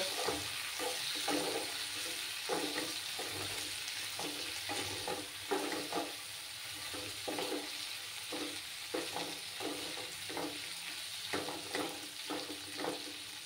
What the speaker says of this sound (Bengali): সেই আদা বাটাটা দিয়ে দিলাম। দিয়ে ভালো করে একটু কষিয়ে নেব।